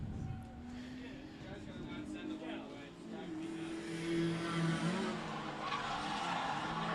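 Mazda Miata drift car at a drifting championship skidding sideways, sustained tire squeal and engine roar heard from a distance under continuous commentary.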